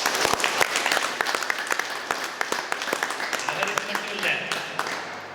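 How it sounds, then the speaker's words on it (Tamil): Audience applause at a Kumbabishekam consecration of a Sri Kamakshi Ambal temple, dense steady clapping from a crowd lasting the whole stretch, fairly loud and alone. "கும்பாபிஷேகம் பிரம்மாண்டமா நடக்கணும்னு ஒரு கைத்தட்டு கொடுங்க."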